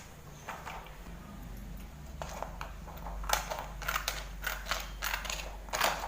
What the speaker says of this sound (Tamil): இப்போ OHB ஷீட் எடுத்து நம்ம அதை வந்து சின்ன சின்னதாக இங்கே கட் பண்ணிக்குவோம்.